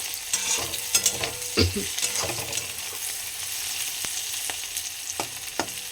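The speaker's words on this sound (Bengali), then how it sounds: "এটা লাল লাল করে এখন ভাজবো" Ingredients for chilli chicken sizzle and fry in a pan in a home kitchen, with steady crackling and a few sharper clinks and stirring scrapes, fairly close and moderately quiet.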